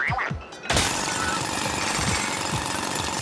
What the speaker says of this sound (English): Okay, maybe do the drill.